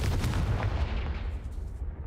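A Confringo blasting spell cast in the Hogwarts Legacy video game: a loud, close, booming blast with a rumbling low-end burst that tails off over a couple of seconds.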